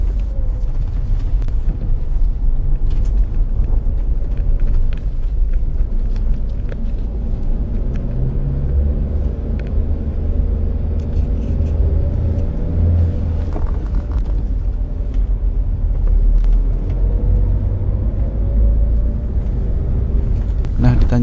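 A car engine labors up a rough, uneven uphill road in first gear, a loud steady low rumble with wind buffeting the microphone throughout.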